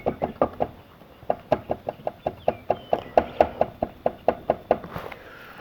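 A loose plastic panel on a Can-Am Ryker is knocked over and over, producing quick hollow clacks in uneven bursts, near and clear, with no talking.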